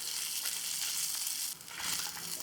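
Garlic and onion roast on a low flame for a Nellai fish curry masala, giving a soft, even frying hiss with a faint stir partway through, quiet and close.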